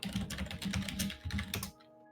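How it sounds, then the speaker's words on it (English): Rapid typing on a computer keyboard, dense clattering keystrokes in bursts, fairly close, stopping abruptly near the end. "we can hear you typing now"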